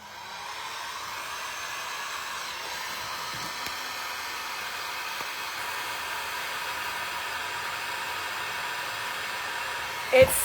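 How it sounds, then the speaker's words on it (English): A heat tool blows a steady, close, breathy stream of hot air over Fabri-Tac glue holding appliques on a pair of jeans, running unbroken for the whole stretch and ending in a short bump. "I'm putting some heat on the Fabri-Tac just to see if it does anything."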